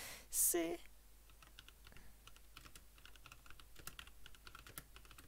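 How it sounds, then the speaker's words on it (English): Rapid clicking of keys on a computer keyboard at close range, irregular bursts of taps following a brief louder noise at the start. "Hear the clicks of my keyboard."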